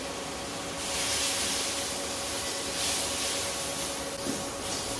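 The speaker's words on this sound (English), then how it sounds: "we're going to just cook the pistachios until they also get nice and vibrant green" Unroasted peeled pistachios cooking in a hot pan give off a steady, loud sizzling hiss that swells and eases slightly, with no talk over it.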